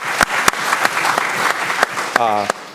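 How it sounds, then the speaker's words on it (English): Audience applauding at a lecture, a short burst of clapping mixed with scattered voices in the room. "I think that absolutely deserves a round of applause"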